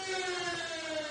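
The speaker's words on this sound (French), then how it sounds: "Soudain, la sirène retentit." A steady wailing siren sound effect plays in a French comedy stage sketch, a continuous tone held alone for about a second.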